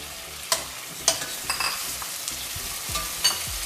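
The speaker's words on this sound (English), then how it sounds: "So now I'm going to add tomatoes in there." Tomatoes dropped into frying onions and spices for moringa daal crackle and sizzle under a spatula, with several sharp scraping stirs and knocks against the pan over a softer steady frying hiss, no voices.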